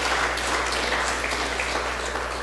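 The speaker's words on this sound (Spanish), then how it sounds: "Dele un aplauso fuerte a nuestro Dios." Congregation applauding during a Spanish-language church sermon, a steady, fairly soft wash of clapping with no pauses, heard over a low steady hum.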